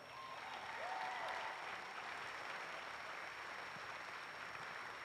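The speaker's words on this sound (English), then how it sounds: "it deserves a round of applause for that reason alone" An audience applauding at a volleyball banner unveiling, a steady wash of clapping that swells slightly at first and then holds evenly, with no talking.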